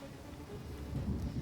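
Rain and thunder in the Total War Rome 2 video game during a siege on an iron gate: a steady, dense hiss of rainfall over a deep, rolling low rumble that swells toward the end.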